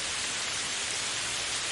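Steady rain falling, a dense, even hiss of drops with no break, alone and with no voices.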